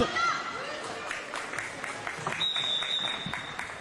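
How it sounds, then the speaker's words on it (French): Applause and cheering from a roller derby crowd at a French match, Les Petroleuses against Les Misfeet, steady clapping with chatter over it and a brief whistle-like tone partway through. "On applaudit la numéro 19 des Misfits."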